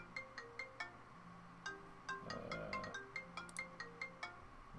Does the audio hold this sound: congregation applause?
no